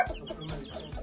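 A hen on a farm raising Aztec gamecocks clucks softly in a few short, close pulses, quiet and alone.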